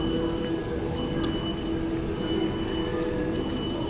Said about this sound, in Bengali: ট্রেনটা মনে হয় ছেড়ে দিল